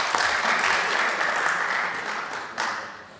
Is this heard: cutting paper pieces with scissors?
no